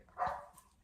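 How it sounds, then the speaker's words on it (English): A single short, muffled dog bark sounds at a moderate distance against a quiet room. "You'll have to excuse my dog, he's in trouble and he's on the chain."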